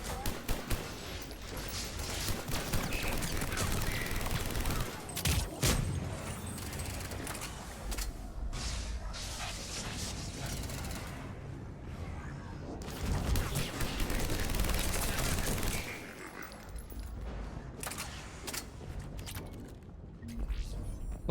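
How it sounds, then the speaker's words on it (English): Javik fires his big laser gun in Mass Effect 3, repeated blasts and mechanical whirs amid a busy battle soundscape, loud and dense with short pauses between bursts. "Sometimes when Javik fires that gun, I'm thinking it's an enemy. Big laser gun flying past him."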